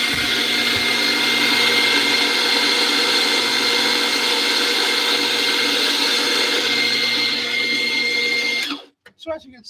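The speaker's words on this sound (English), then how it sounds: "So I'm going to show you how it grinds." An espresso coffee grinder runs continuously with a loud, steady mechanical whir for about nine seconds, then stops abruptly, leaving a few faint clicks and handling noises.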